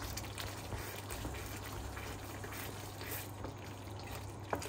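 Pasta boiling in a pot of water for a weekend dinner, a steady low bubbling and rolling wash that holds evenly throughout, with one faint clink near the end.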